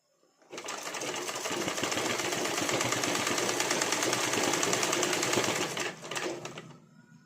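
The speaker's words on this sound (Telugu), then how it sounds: "ఇప్పుడు మధ్యలో కుడుతున్నా." A sewing machine stitches leftover fabric scraps together, running in one loud continuous rapid chatter for about five seconds before a brief stutter and stop, with no talk.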